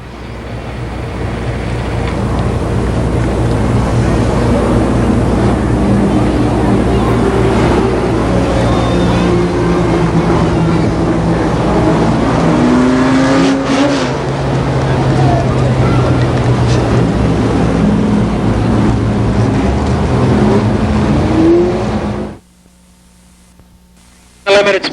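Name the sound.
race cars at Columbus Motor Speedway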